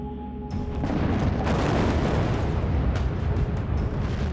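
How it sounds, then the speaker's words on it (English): A huge blast from 75 tons of ammonium nitrate explosive shattering the sandstone over a 15-foot coal seam at a surface mine, a loud broadband boom that rolls into a sustained rumbling roar with no talk. "75 tons of ammonium nitrate explosive shatters the layer of sandstone covering the 15-foot-thick coal seam."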